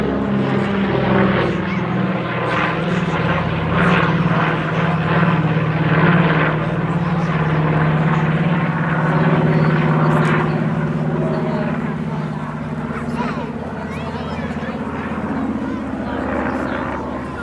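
A propeller airliner or bomber, a DC-6 or B-25J of the Flying Bulls, droning overhead at an air festival at Ragley Hall, a loud sustained engine roar with a commentator talking over it.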